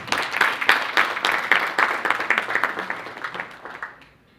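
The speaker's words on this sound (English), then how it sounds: "Let's give her a clap, ladies and gentlemen." Audience applause after an introduction at an interview event, dense clapping from a crowd that swells early and then gradually thins and fades out over several seconds, heard alone without talk.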